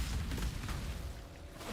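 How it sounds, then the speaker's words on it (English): Explosions in the action role-playing game Path of Exile, a continuous rumble of low booms and blasts piling on one another, moderately loud and unbroken, with no talk heard. "Explosions aplenty."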